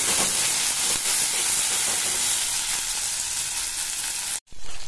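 Onions fry in a pan with a loud, close, continuous sizzle and hiss, broken by a short sudden gap near the end before the sizzling resumes.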